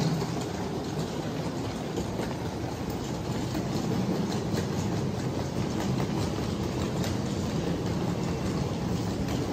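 Taipei MRT metro train running, a steady broadband rumble and hiss of the carriage in motion, continuous and fairly loud throughout with faint clicking, no talk.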